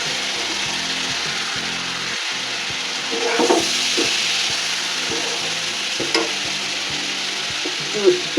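Spices fry with fried potatoes in a pan, a loud, steady sizzle up close with rhythmic scraping and stirring strokes throughout and a few sharper knocks near the end.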